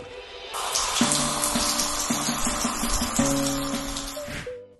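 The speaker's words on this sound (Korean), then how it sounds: "프롬프트에 비 내리는 소리라고 입력하고" A steady, dense wash of falling water makes up an AI-generated rain effect from Filmora. It starts abruptly, holds an even hiss with faint tonal undertones, then cuts off, with no voices.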